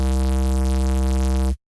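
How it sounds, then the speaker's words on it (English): Harsh, dirty white noise synth sound pushed through heavy distortion for a dubstep bass, a loud, steady, dense buzzing roar held for about a second and a half before cutting off abruptly. "it's a really harsh and dirty sound"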